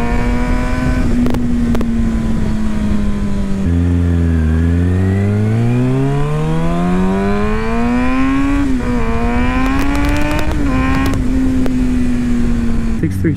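Kawasaki Ninja 636 sport motorcycle engine revving loudly up close, pitch dropping low then climbing in a long steady rise with a few sharp throttle blips near the end, continuous and dominant throughout.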